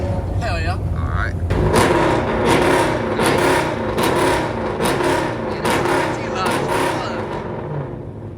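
A loud Dodge engine rumbles and revs in traffic nearby with repeated pulsing surges and a low growl, while people talk over it in the cabin.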